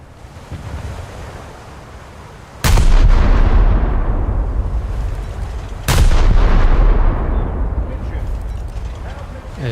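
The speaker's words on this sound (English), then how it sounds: "Let's see if I can open up with that rear gun as well" A ship's rear gun fires twice in a naval video game, each shot a loud booming blast that rolls off into a long rumbling decay over steady wind and sea noise.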